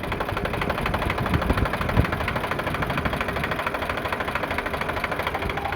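An Eicher 368 tractor with 2900 hours and fresh engine oil idles steadily up close, a continuous low mechanical rumble with a faint rhythmic knock and no voices over it.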